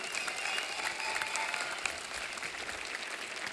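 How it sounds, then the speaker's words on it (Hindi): Studio audience applauding guests at a Christmas party episode of a Hindi comedy talk show, a continuous, even wash of clapping from a large crowd throughout. "एक बार जोरदार तालियां हमारे मेहमानों के लिए।"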